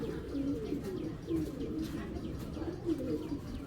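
Young racing pigeon cooing, several soft low rolling coos in a steady rhythm, close and fairly quiet, with faint chirps behind.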